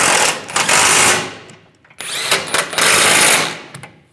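Power tool driving nuts down on the rear side bumper end of a 2007-2013 Chevrolet Silverado 1500, two loud close bursts of whirring and impact rattle separated by a short pause, no talking.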